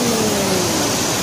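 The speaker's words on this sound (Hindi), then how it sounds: "यहाँ पर है झरना" A waterfall at the Krishnaraja Sagar dam in Vrindavan Gardens, Mysuru, gives off a steady, loud broadband rush of falling water with no breaks.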